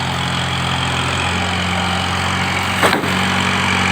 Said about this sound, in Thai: เสร็จแน่เสร็จแน่รถไถมาอีกแล้ว